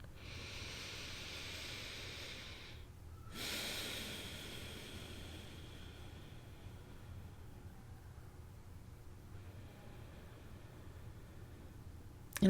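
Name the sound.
slow meditative breathing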